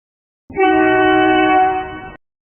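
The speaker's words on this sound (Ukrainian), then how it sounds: "А тепер який транспорт сигналить?" A single long blast of a loud bus horn, steady and close, lasting under two seconds.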